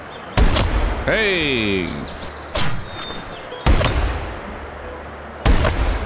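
A semi-automatic gun fires four sharp, loud shots at uneven intervals while goose hunting in Hunting Simulator 2, with a honking goose call between the first two shots and a brief shout from a voice.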